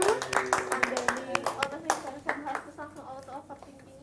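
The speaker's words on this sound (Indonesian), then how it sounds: "tepuk tangan dulu untuk Winda dan ya" A small group claps together in a room during a mental-health peer-counselling discussion session, a steady run of sharp overlapping claps for about three seconds that thins out as voices talk over the end.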